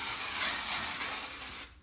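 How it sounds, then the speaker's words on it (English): Dry shampoo and hairspray sprayed onto curled hair extensions, a close, steady aerosol hiss running almost two seconds before cutting off. "I'll spray some dry shampoo on it and a little bit of hairspray."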